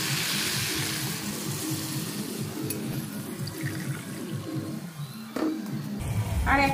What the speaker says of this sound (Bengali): এবার আমি 1 কাপ দুধ দিয়ে দেবো।